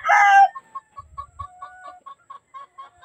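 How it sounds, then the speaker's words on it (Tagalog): A White General bloodline gamefowl gives a brief loud call, then a close, evenly spaced series of short clucks. "Napakagandang manok mga idol."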